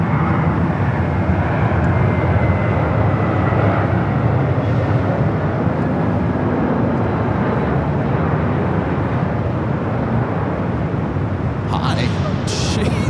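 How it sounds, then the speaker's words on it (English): An American Airlines A321 arriving at LAX from Philadelphia produces a continuous heavy engine roar that stays loud and fairly even, with faint speech-like sounds underneath and a few brief higher-pitched bursts near the end. "Our next arrival is an American flight coming in from Philadelphia"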